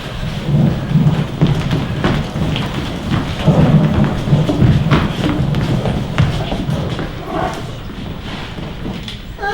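A heavy rainstorm pours steadily with rumbling thunder rolling beneath it, loud and close throughout, and a faint voice comes through at moments.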